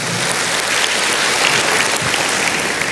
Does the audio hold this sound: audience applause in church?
yes